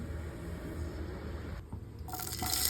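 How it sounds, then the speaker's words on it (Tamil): Cooking oil is poured into a hot pan, a quiet low liquid rumble that breaks into a brighter hiss near the end, close by with no talking. "பேன் சூடாகிடுச்சு கொஞ்சம் எண்ணெய் விட்டுக்கலாம்"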